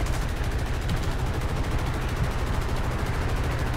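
Tank gunners in the War Thunder video game fire at aircraft, producing a dense, continuous roar of rapid automatic gunfire that stays loud and steady throughout, with no talk.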